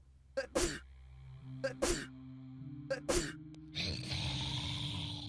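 Three sharp sneezes in quick succession, each with a sudden intake then explosive burst, close and loud, followed by a steady noisy rumble in the background.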